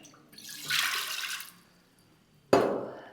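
Water poured into a cooker pan in a short splashing stream of about a second, then a sharp second splash that trails off, close and fairly quiet in a home kitchen.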